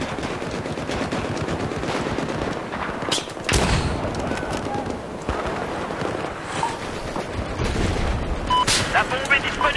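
Gunfire in Battlefield 4, rapid automatic bursts and sharper single cracks mixed with booms, running constantly beneath excited French-speaking players.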